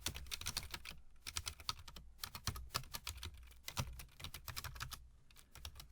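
Rapid irregular keystrokes on a computer keyboard as code for a coin-flip web app is typed, close and steady in bursts with short pauses, no voices.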